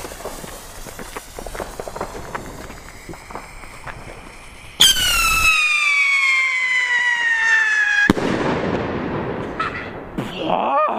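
A siren rocket firework from a Funke-brand lineup shrieks with a long, loud descending whistle, then bursts sharply, following outdoor scuffling and footsteps.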